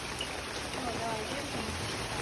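Rain falls during a gusty, windy spell, heard as a steady, even wash of broadband hiss that stays constant and moderately faint for the whole short stretch.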